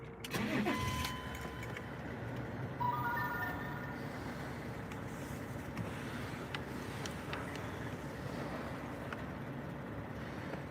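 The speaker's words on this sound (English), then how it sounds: "I'm just going to have to put my engine on again for a minute" A car engine cranks and catches, then settles into a steady low idle that continues throughout.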